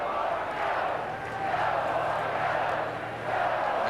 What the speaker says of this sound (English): And the crowd really getting into it now